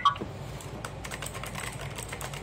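Fingers type quickly on a GAMDIAS Hermes E1 mechanical gaming keyboard, producing a dense run of sharp, clicky keystrokes at close range, fairly quiet and with no talking.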